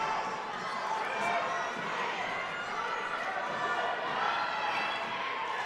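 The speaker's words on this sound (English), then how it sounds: "Starting to hear the crowd starting to call for stalling." Crowd at a Delta vs Millard wrestling match shouting and calling for stalling, a steady roar of many voices filling the gym throughout.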